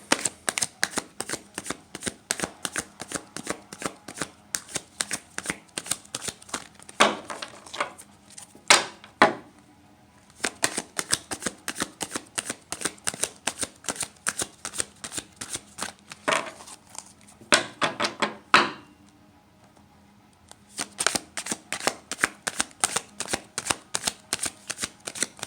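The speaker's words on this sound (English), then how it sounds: "We did enough shuffling" Tarot cards are shuffled by hand in long runs of rapid, crisp riffling flicks, close and clear, broken by a few louder slaps and brief pauses before the shuffling resumes.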